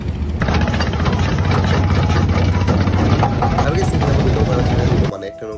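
A boat engine drones loudly and steadily at Jinjira ghat in Old Dhaka, a heavy low rumble with background voices that cuts off abruptly near the end.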